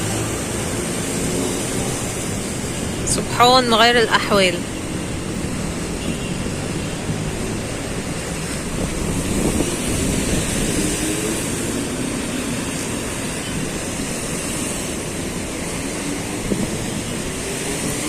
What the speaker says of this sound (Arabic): والموج يعني الموج بيعلى زيادة